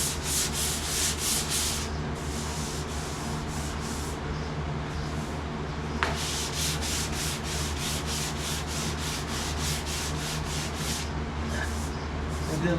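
Hand sanding over a Bondo body-filler repair, a steady run of rhythmic back-and-forth scraping strokes, close and continuous, with a brief sharp tap partway through.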